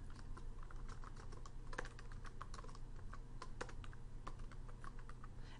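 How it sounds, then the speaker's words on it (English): Typing a response on a computer keyboard, a quiet run of irregular key clicks and taps with small pauses, close and faint, with no talk. "they would type in their response."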